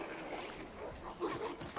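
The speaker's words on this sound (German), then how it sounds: "Da kämpfen zwei Hunde gegeneinander." Two dogs fight in the video game Assassin's Creed 3, giving short yips and whimpers over steady game ambience, with a louder burst of growling near the end.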